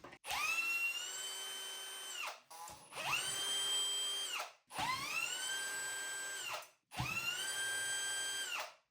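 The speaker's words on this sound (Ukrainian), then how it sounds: "Викритили 4 болти і знімаємо просто отак от платформу на себе." A power tool whines up and down in four separate bursts of a few seconds each while bolts are removed from the inspection platform of an Akwa Pumps VQD 1.1 kW sewage pump, with short quiet gaps between bursts.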